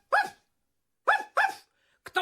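A small shaggy dog barks four times in short bursts: one bark, a pause, two close together, then a quick final yip, loud and near.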